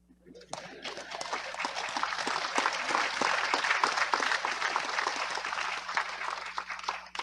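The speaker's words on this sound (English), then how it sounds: "You're not going to clap for that?" Sustained applause from a large audience at the National Toshaos Council meeting, a steady dense wash of clapping that starts abruptly and continues loudly throughout.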